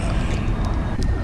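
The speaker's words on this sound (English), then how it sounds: "let's just continue with this takeoff" Engines of an MD-80 airliner roaring steadily during takeoff in a flight simulator game, a loud continuous broadband jet rumble with faint higher whine.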